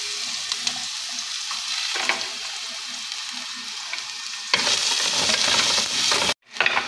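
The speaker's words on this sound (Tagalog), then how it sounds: "Lagay natin yung ating luya." Ginger frying in a hot casserole pan, with garlic, gives a steady, close sizzle that grows louder and brighter partway through, then cuts out briefly before resuming.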